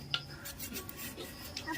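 Spoon scraping and stirring cut cashews into a sticky watermelon sweet mixture in a metal pan, with soft close scrapes and a few small clinks, quiet and brief.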